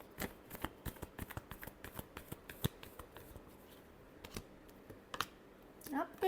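Tarot cards are shuffled by hand in a quick series of crisp riffling snaps and taps, close and fairly quiet, ending with a slightly louder flurry.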